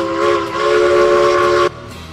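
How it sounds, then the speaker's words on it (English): A steam locomotive whistle in the Railroads Online video game gives one loud, sustained multi-tone blast lasting over a second, then cuts off sharply, leaving a faint rumble. "And I love that whistle."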